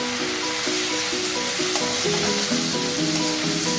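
Two chopped tomatoes fry in a pan for Nallampatti chicken roast, giving a loud, continuous close-up sizzle with light stirring, under steady background music.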